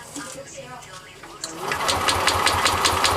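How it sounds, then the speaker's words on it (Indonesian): A Yamaha Lexi scooter with a heavy starter and an intermittent misfire cranks, then its engine catches and runs with a rough, rapid pulsing rattle, close and loud, with someone talking over the start. "Bisa lihat starternya berat, teman-teman."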